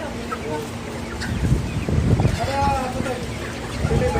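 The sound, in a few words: live chickens clucking at a market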